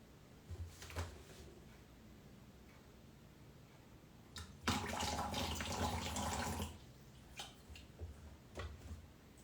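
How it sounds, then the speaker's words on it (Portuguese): Water runs from a tap into a container as it is set to the right temperature for a sourdough starter, coming in short splashes and then a steadier two-second gush, followed by a few brief pours, all fairly quiet and with no voices. "filmar um pouco como eu estou colocando a água na temperatura certa"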